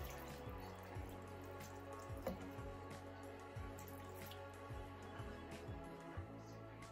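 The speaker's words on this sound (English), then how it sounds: "I'm gonna put 2 cups of cold water." Cold water poured into a cooking pot for crawfish étouffée, heard as faint, quiet trickling and dripping with soft irregular splashes throughout.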